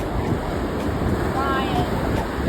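Surf breaking on a windy beach, a steady roar of wash mixed with heavy wind buffeting the microphone, continuous and close throughout with no clear individual wave crest standing out.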